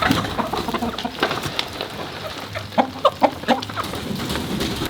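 Chickens cluck softly amid scratching and pecking noises as they eat dried bug treats, with a few sharper clucks close together near the end.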